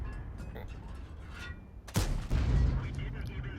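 Tank cannon firing premium rounds in the World of Tanks video game, one sharp heavy blast followed by a rumbling boom, with game noise and distant shots underneath.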